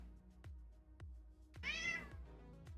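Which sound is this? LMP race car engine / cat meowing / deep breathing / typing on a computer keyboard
cat meowing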